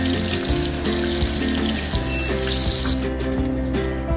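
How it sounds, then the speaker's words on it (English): Homemade butter rinsed under a running tap, a loud continuous rush of water splashing into a sink, close and constant throughout with no voices. "I'm gonna take off this cheesecloth and rinse my butter off."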